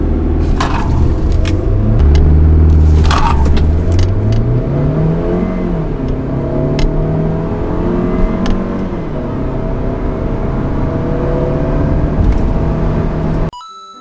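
A SsangYong Tivoli with a gasoline turbo engine revs up hard from rest, its pitch climbing steadily through gears with rising whine, loud and close, then cuts off abruptly.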